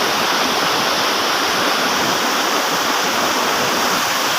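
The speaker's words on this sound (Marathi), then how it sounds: "कसा आहे आपला हा धबधबा" A tall waterfall at the foot of Kalsubai in the monsoon rain roars loud and close, a thick unbroken wash of falling water with no voices over it.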